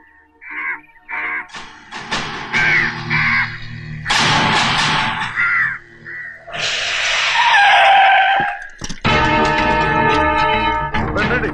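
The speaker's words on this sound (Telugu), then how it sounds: "ఈ ఏరియాలో ఒక్క కాకి కూడా ఉండాలని వీలేదు" Crows caw in loud, harsh bursts inside a comedy scene. Screechy calls come in quick clusters, with thumps and shouting-like noise between them and a dense, raucous stretch at the end.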